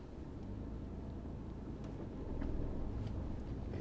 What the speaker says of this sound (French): On regarde devant, on accélère.